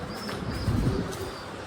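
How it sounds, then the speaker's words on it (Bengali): A male Kaldom breeder pigeon coos, giving a soft low burbling call that swells briefly in the middle against quiet background hiss. "এটা আমার কালদম চুইঠালের মেইন ব্রিডারের একটা নর কবুতর"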